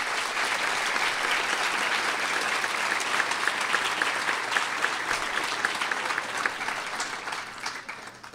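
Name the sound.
audience round of applause at awards ceremony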